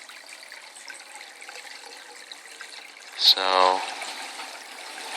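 Water pours through a homemade PVC overflow tube into a sump container, a trickling background that swells into a louder gush partway through, with a short spoken word near it.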